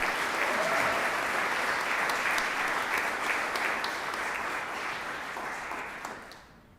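A crowd gives sustained applause for teacher nominees at a Teacher of the Year celebration, a thick wash of clapping that holds steady and then fades out at the end.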